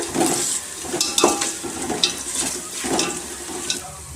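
Cashews frying with onions in a pot while chicken biryani is being made, a steady dense sizzle lasting throughout with occasional scrapes and clinks of stirring.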